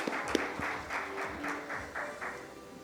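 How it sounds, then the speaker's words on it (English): Audience applause at a heart-health medical panel on stage in India, moderate and fairly distant, with rhythmic clapping that fades and returns across the few seconds, no voices over it. "Let's have a round of applause"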